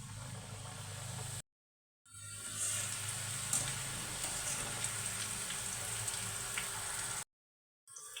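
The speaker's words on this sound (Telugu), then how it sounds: "ఆయిల్ బాగా వేడైన తర్వాత ముందుగా మనం కట్ చేసుకున్న వాటిని కొద్ది కొద్దిగా తీసుకొని ఆయిల్లో వేసి" Cut snack pieces deep-fry in hot oil, giving a steady, close, crackling sizzle with two brief silent gaps.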